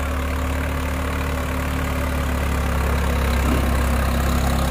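A Swraj 855 4x4 tractor engine runs steadily near 1500 RPM, a loud continuous diesel drone with a deep hum that holds constant throughout, slightly rising toward the end, with no talking.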